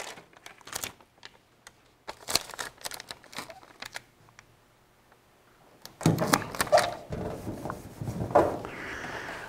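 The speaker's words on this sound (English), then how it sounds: "So let's put this sticker on here to make it easy to" Sticker handled and pressed onto a duct smoke detector template: intermittent crinkling, peeling and rubbing taps, then a denser burst of close paper rustling near the end.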